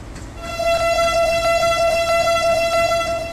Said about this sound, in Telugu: హార్న్ కొడదామా?